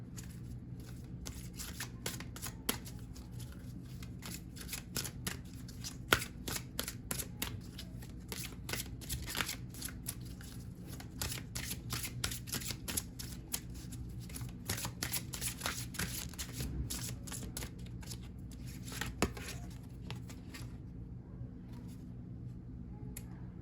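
Archangel Michael oracle cards being shuffled by hand, a steady stream of soft riffling and flicking card slaps running almost continuously at close range, with a quieter stretch near the end and no talking.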